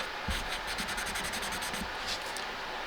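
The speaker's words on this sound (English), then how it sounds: "It's the same kind of cleaner that I would use before painting, just to get the dust and grime off the guitar." A cloth wiped with cleaner across a guitar body gives a steady, soft rubbing and scuffing at close range, with a few quick strokes and no voices.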